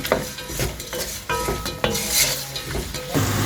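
Onions sautéing with salt in a pan for butter chicken, a steady sizzle broken by repeated scraping and stirring strokes of a utensil against the pan, close and fairly loud, with no talking.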